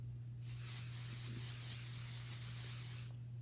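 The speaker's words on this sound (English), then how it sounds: "pixie spray on the back." Pixie spray sprayed onto the back of a paper stencil, one steady hiss lasting about three seconds, close and fairly quiet over a low electrical hum.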